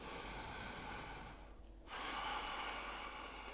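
Slow, deep, steady breathing during a vinyasa yoga flow: a soft, faint airy breath that briefly pauses, then resumes slightly stronger, with no talking.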